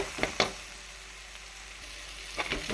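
Pumpkin sautés with chili powder in a pan, a low steady sizzle with a couple of quick spoon scrapes at the start and again near the end, close by and without talk.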